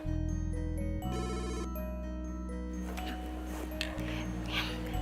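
A telephone ringtone sounds as a boss calls into an office, a steady melodic electronic tone looping with short repeated pulses over a continuous low hum. It plays loud and close, with no talking.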